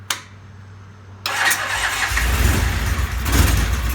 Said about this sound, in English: we're going to turn on the ignition and give her a shot and see if the bike will start